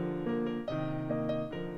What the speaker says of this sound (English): right now, the music sounds like this.